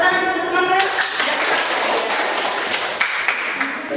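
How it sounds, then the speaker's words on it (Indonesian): Students in a school classroom clap for classmates as they come forward to present a group discussion. The clapping is loose and uneven, with a voice briefly heard at the start and a few sharper claps near the end. "Ya, kasih tepuk tangan untuk teman-teman."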